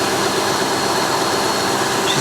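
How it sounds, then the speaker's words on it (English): A Cadillac hearse sits idling on a salvage auction lot, its engine turning over in a steady, even rumble that holds without a break for the whole stretch, with no voices over it. "It's idling nice."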